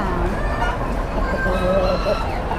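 Chickens cluck and murmur among the pens of a bustling poultry market where giant Brazilian-breed birds are sold, a steady close cackle layered under background chatter and crowd noise.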